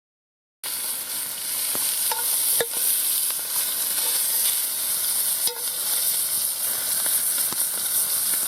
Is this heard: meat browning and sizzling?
yes